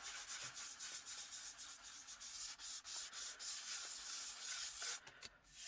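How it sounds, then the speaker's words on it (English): Sandpaper rubbed steadily across the back side of a sheet of shrink plastic, a close, continuous scratchy rasp with brief strokes and pauses near the end. "So I'm going to sand, and I guess sand pretty well."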